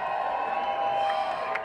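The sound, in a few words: crowd cheering in a tent at a film premiere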